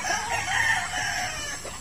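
A rooster crows near brood hens in a breeding pen, a single drawn-out call that carries over faint clucking and farmyard background, with no one talking.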